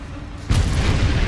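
A heavy boom from the explosive Confringo spell in the video game Hogwarts Legacy, a single sudden blast that hits loud and close, then rumbles on briefly.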